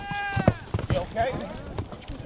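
Horse hooves clip-clop in a Western film scene, a few hollow knocking steps close by, with voices and a melodic tone mixed in.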